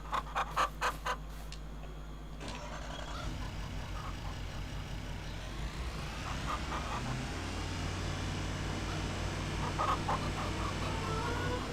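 Farm chickens cluck in the video game Farming Simulator 25, with short clucking bursts at the start, then quiet ambient farm noise and a low engine-like drone.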